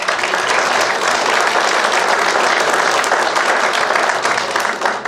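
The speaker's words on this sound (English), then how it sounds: "They deserve a round of applause" Steady, loud applause from a crowd at a county commissioner debate, dense clapping sustained for about five seconds without a break.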